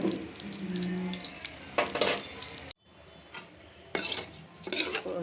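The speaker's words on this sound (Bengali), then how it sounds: "আস্তে আস্তে ভাজতেছি, কারণ ফ্রিজে রাখা ছিল আগেই বানানো।" Food taken from the fridge is fried slowly in a pan, giving a steady close sizzle with clinks of utensils against the cookware and a brief drop to quiet midway.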